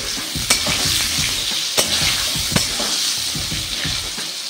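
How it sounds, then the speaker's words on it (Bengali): Potato pieces seasoned with salt and turmeric hiss and crackle steadily in hot oil in a pan, with a few louder scraping stirs of a spatula breaking through the close sizzle. "দিয়ে দিচ্ছি নুন আর হলুদ দিয়ে আমি আলুটা একটু ভেজে নিই"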